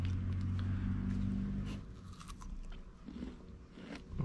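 Candied tamarind is bitten and chewed up close, giving a few crisp crunches followed by quieter chewing, heard on its own without talk.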